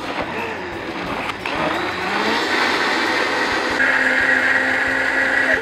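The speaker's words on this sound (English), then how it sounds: "let's turn on the blender." A Vitamix blender whirs loudly and steadily while blending an orange, spinach and basil smoothie, the motor pitch shifting upward as it speeds up partway through, with no talking.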